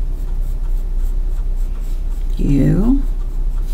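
A pencil scribbles a slope profile onto paper: one brisk, scratchy sketching stroke lasting under a second, close and clear over a faint steady background hum.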